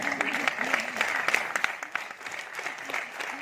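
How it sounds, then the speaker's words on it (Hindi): A group claps steadily and continuously at a motivational talk, with a dense patter of hands while a voice speaks over the applause throughout. "जब हम ताली बजाते हैं तो थोड़ा हाथ में गर्मी आती है"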